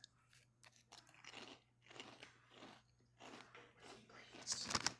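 Barbecue potato chips crunch through several bites and steady chewing close to the mic, each bite a sharp crackly burst with softer munching between, loudest near the end.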